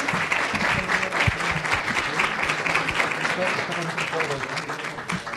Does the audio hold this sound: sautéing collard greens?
no